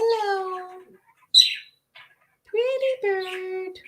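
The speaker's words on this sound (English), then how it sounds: "Hello, pretty bird." A pet bird calls indoors in several short bursts of harmonic, speech-like squawks and chirps, fairly close and clear, with brief pauses between the outbursts.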